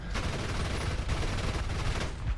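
A tank cannon fires in the War Thunder video game on a Tunisia map, a loud broadband blast followed by a sustained rumbling roar with no speech.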